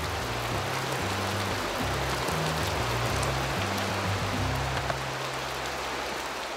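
Steady heavy rain pours down in a dense continuous hiss, with a low droning hum running beneath it the whole time.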